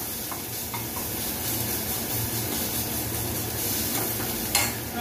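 Soya chunks fry in oil in a pan for chili soya manchurian, making a steady even hiss with a few faint stirring clicks and no talking.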